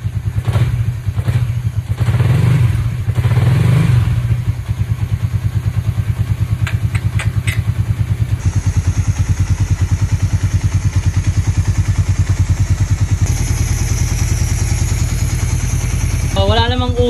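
A restored, previously fire-damaged Suzuki Raider motorcycle engine idles steadily and close by with a rough, pulsing rumble and some rattling clatter, revving briefly at the start.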